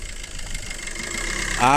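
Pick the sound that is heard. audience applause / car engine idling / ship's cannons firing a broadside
car engine idling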